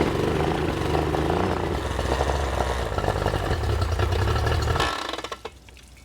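A rough Yamaha 40 horsepower two-stroke outboard motor runs in gear with a buzzy, uneven drone, steady and close for about five seconds before cutting off into near silence.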